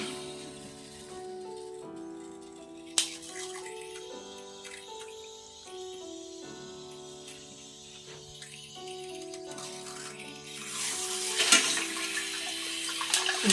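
Water sprays steadily from the self-cleaning dual nozzle of a Hibbent bidet toilet seat, a continuous hissing stream that swells louder near the end, with a sharp click partway through.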